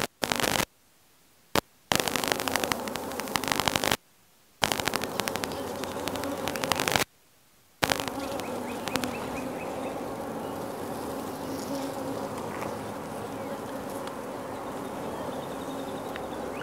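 Honey bees are shaken from frames into a starter box, making a loud, close, dense buzzing hum that is cut by a few sharp knocks and brief silent gaps early on, then settles into a steady drone.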